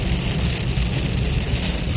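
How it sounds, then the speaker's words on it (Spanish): Heavy downpour drums on the roof of a car during a drive, a dense, steady, loud hiss and patter with no gaps. "es como que nos están tirando agua con la manguera arriba del auto."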